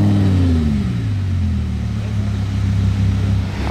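Audi R8 with its V10 engine, converted into a motorbike-style car at Top Marques Monaco, loud and close, revs climbing and falling back into a deep, throbbing idle that carries on steadily.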